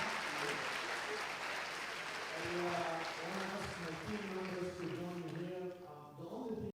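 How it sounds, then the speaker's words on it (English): An audience at a mentoring talk applauds steadily for several seconds, the clapping fairly distant and continuous, while someone speaks over it before it fades out. "How about a round of applause for this young man?"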